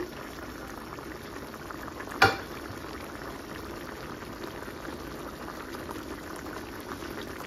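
An egg fries with green chillies in a pan, a steady soft sizzle and bubbling throughout, broken once by a brief clink partway through.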